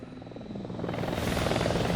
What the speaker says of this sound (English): The Westpac Rescue Helicopter